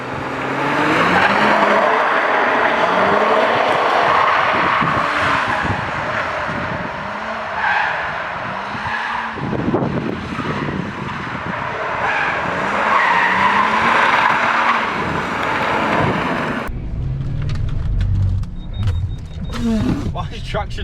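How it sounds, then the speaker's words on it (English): A Lexus GS300 slides sideways in traffic, its tires squealing in long wavering tones over engine roar, with loud cabin rattles and a sudden clatter near the end; voices are heard faintly inside the car. "We're going to include some clips of this fucking going sideways."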